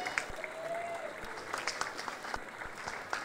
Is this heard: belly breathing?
no